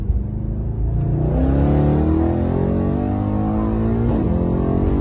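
A Mercedes E63 AMG rated at 780 horsepower and 1100 Nm accelerates hard. The engine note climbs steadily in pitch through the gears with a deep, loud growl, close and sustained, and a brief shift dip near the end.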